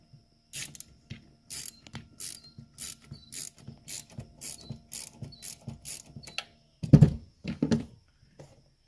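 Wrench loosening the bolt on a 12-volt battery terminal in a Tesla Model 3, a quick series of sharp, close ratchet clicks in short bursts, followed by a couple of louder knocks, in a quiet setting.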